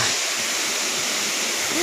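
River water flows in a steady, close rushing wash that stays even for the whole short stretch, with no voices over it.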